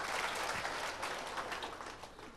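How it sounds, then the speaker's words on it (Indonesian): A church congregation claps loudly for God after being told to stand, a dense, steady wash of many hands close by, sustained without a break. "Bangkit berdiri, tepuk tangan yang keras ya buat Tuhan."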